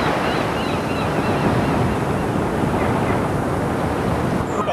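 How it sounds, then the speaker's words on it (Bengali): High storm waves and strong wind at sea roar in a loud, continuous wash of surf and gusting air with no break. "পাহাড়ের মতো উঁচু উঁচু ঢেউ।"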